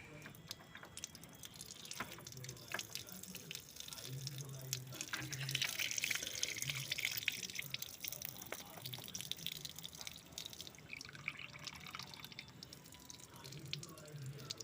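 Coolant drains from a Tata Nano after the drain cap is loosened, a faint, steady trickle of liquid with scattered drips, accompanied by low background noise.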